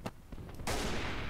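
Gunfire in the Verdun video game: a few sharp isolated shots, then a loud sustained burst of rapid fire with a rumbling tail, fairly close.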